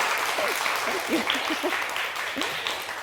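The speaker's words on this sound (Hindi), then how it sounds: "थोड़ी सी तालियां बच्चे हो जाए ज़ोरदार सी" Children clapping in a TV studio during a Ramzan kids' special, producing a moderate, steady patter of applause with a few faint voices mixed in.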